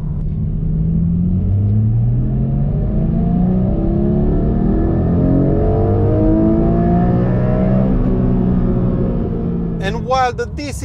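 Porsche Cayman GTS 4.0 accelerating hard in a long second gear, its engine note climbing steadily in a loud, sustained rising roar before easing off near the end, with a brief voice at the close.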